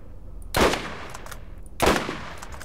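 Gunfire in the video game Borderlands: two sharp shots about a second apart, fairly quiet, with no talk over them.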